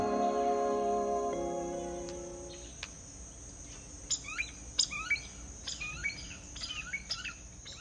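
Songbirds chirp and trill outdoors near a home garden in a quick series of short, bright calls, rising after a fading tonal sound at the start.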